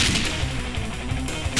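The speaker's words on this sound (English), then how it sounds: "Oh, this shotgun is awesome." Shotgun blasts in the video game Dead Pixels, with a few loud, sharp booming shots spread over under two seconds, close and dominant, with no talking.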